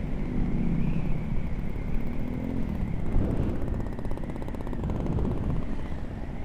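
Motorcycle ridden at night, a steady engine drone with wind rush and slight rising and falling pitch, loud and continuous with no talk.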